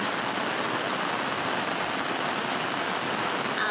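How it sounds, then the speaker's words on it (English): Dense, heavy thunderstorm rain drums steadily on a sailboat's cockpit, a continuous loud patter with no pauses and no voices. "now the rain is really bouncing"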